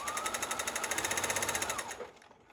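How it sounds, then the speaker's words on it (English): A sewing machine runs a seam on a homemade fabric face mask, its needle hammering in a fast, steady rhythm for about two seconds before stopping, close up and alone. "And I sew to about 2 inches from where I started"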